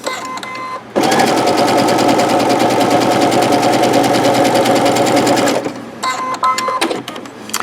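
A sewing machine runs steadily for about four and a half seconds, edge stitching pre-pressed fabric, with a dense rapid needle chatter, loud and close, framed by quieter handling clicks before and after.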